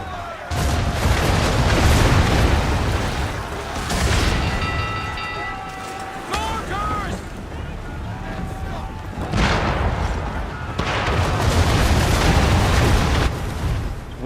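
Mortar fire in the Assassin's Creed 3 video game, during a naval battle, lands in repeated booming explosions, loud and close in several heavy waves, with tonal game sounds between them and a voice talking over it.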